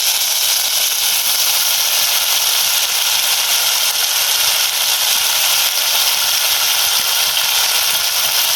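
Onions and chillies fry in a pan with a loud, steady, unbroken sizzling hiss that stays even from start to finish, heard close up with no talking.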